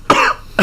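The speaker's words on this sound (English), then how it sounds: "And I'm coughing out like this." A person coughs twice, a harsh, close burst followed after a short pause by a second, briefer cough.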